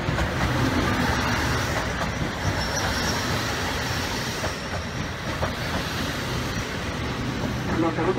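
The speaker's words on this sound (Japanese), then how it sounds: "3番線に列車が到着いたします。" A rapid airport train rumbles and clatters into a platform at New Chitose Airport station in Japan, wheels screeching faintly over a continuous heavy roar, with Japanese announcements faintly audible.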